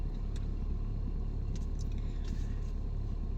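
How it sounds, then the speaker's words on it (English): A car engine idling on a chilly day, a steady low rumble close by and continuous throughout, with no talking. "we have the car on just to stay a little warm"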